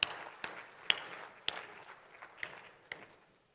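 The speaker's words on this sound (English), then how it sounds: "let's give them a round of applause." Scattered, sparse claps from the audience at a joint plenary session of an optics conference. About seven separate slaps come at uneven intervals and grow fainter, then fade to quiet.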